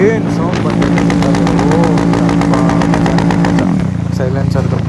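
A Royal Enfield Bullet motorcycle's exhaust silencer thumps with a steady, loud low rumble, its beat shifting near the end as the revs change, heard close and alone.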